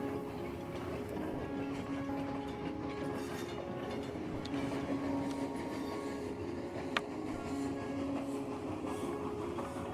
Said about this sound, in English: The train is rolling through the winter wonderland.